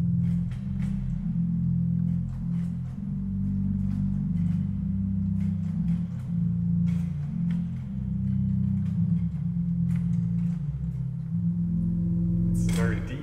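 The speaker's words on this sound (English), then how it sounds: "There's a very large flute, a organ 16 foot, which sounds like this." Very large 16-foot flute organ stop in a Hasselt church in Belgium. A deep, strong, sustained bass tone hums steadily for the whole stretch, with faint higher sounds above it and a brief noise at the end.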